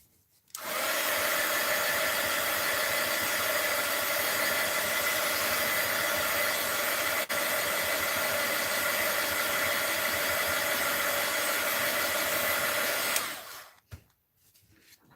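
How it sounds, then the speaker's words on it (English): A heat gun blows steadily and loudly at an art journaling and mixed media table, a continuous airy roar that holds unbroken for about twelve seconds before cutting off. "Let's hit it with the heat gun again."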